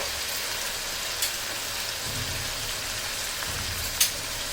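Beef frying in a pot gives a steady, close sizzle like rain, with two brief clicks of stirring, and no one speaks.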